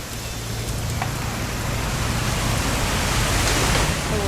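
Constant broadband wash of rain in What Remains of Edith Finch, a thick, even roar with a low rumble underneath, holding fairly loud and steady, with no voices present.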